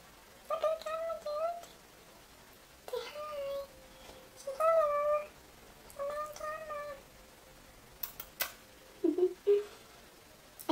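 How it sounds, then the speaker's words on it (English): A pet cat of seven years meows repeatedly indoors, several drawn-out, rising and falling calls with short pauses between them, close and fairly clear, with a few sharper chirps near the end. "This is my cat that I've had for 7 years."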